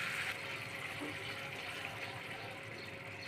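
Water is poured into a cooking pan of sautéed masala, a steady, quiet rushing pour that lasts throughout with no talking.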